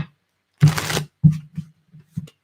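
Short bursts of tarot cards being shuffled, one longer riffle followed by several quick, softer flicks, close by with no talking.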